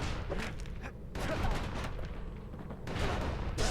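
The Calamity Cannon firing in the video game Bastion, a run of heavy booming blasts layered over dense crackling game noise, fairly loud and continuous with bursts at the start, middle and end.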